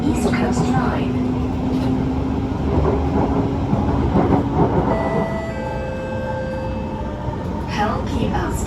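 Cabin sound aboard an SMRT Kawasaki C151 train on the North South Line: a steady rolling rumble with a faint tonal whine, and midway a cluster of rising and falling electric motor tones sweeps through.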